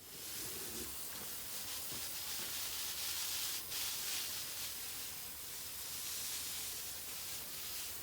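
A hose-end sprayer set to its highest setting sends out water in a steady, quiet hiss of spray that runs on continuously and evenly with no talking.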